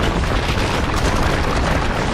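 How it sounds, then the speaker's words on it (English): A Monokuma blows up in a single sustained, rumbling blast, loud and dense throughout with no quiet gaps. "As if my skull was ruptured, the sound of an explosion thunders out"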